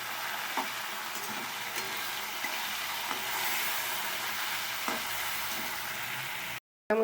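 Carrots and other vegetables fry in a pan as tomato and peas are added, making a continuous moderate sizzle with occasional soft scrapes and clinks from stirring. No one talks over it, and it cuts off briefly just before the end.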